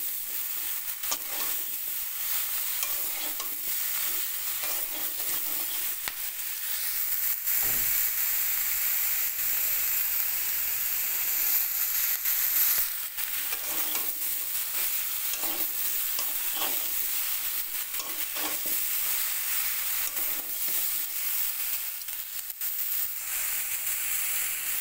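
Shrimp and elephant-foot yam stalks, coated in salt and turmeric, are stirred in a hot pan. The loud, continuous sizzle and hiss carries repeated scraping strokes of the spoon throughout.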